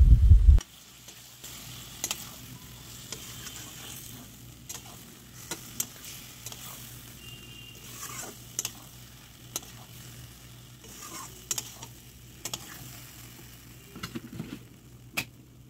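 Spice paste stirred and fried in a kadai for a vegetarian gati kochu (taro) dish: a steady low sizzle under regular scraping strokes of a spoon against the pan, close and without talk.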